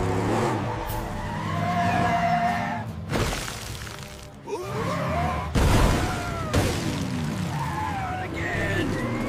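A cartoon monster truck engine roars and its tires squeal and skid across a slippery floor, loud and sustained with sliding screeches and crashes, while animated characters talk over it.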